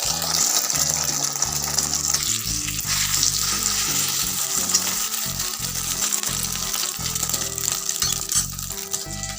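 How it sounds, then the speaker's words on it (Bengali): An egg frying in a pan makes a loud, continuous, close-up sizzle with crackling bursts throughout, and no voices are heard. "ডিমটা খালি ভাজা হয়ে যাচ্ছে"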